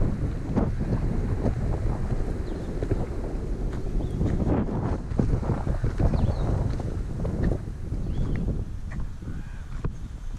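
Strong wind gusts buffet the microphone on a solo canoe trip, a continuous loud low roar that swells and eases across the whole stretch, with no voices.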